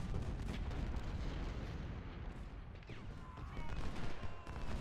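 Civil War artillery batteries in Ultimate General: Civil War pound away at an infantry brigade: a dense, continuous stream of overlapping cannon booms and rumbling blasts, steady and heavy throughout.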